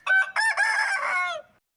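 A man mimics a rooster's cock-a-doodle-doo with his voice, a loud, close, strained crow in a few rising bursts that trail off, with no talking over it.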